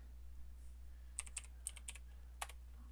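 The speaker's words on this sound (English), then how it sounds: "typing in the DD double dash help" Keys on a computer keyboard are tapped to enter a dd command, a handful of light, separate clicks in quiet with a low steady hum underneath.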